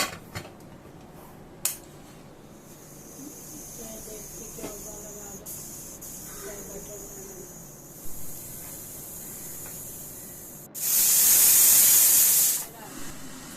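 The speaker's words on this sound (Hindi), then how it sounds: "इसे फिर से कवर लगा के हम एक विसल देंगे" Quiet kitchen clatter with a few sharp clicks, then a pressure cooker whistle: a loud burst of hissing steam lasting about two seconds before cutting off.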